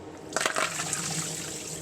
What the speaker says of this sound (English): now that our spinach is cooled down, we can strain the water out